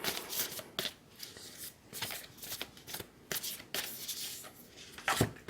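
Lover's Oracle cards being shuffled by hand, a steady run of soft riffling flicks and slaps with a sharper snap near the end, close and quiet with no talking.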